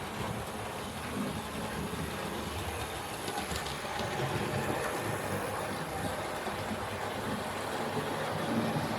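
A 4-4-0 steam locomotive runs steadily, giving a continuous dense rumble and hiss that holds at an even loudness throughout, with no voices.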